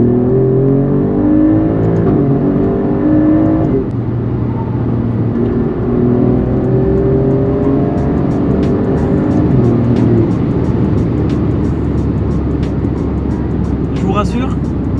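Alfa Romeo Giulia QV with its 510-horsepower engine accelerating hard through fast paddle-shift gear changes, a loud, steady drone that drops and climbs again, with someone talking over it.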